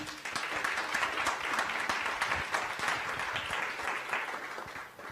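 Sustained audience applause at a family conference session in Spanish, dense steady clapping from a crowd lasting several seconds without a break.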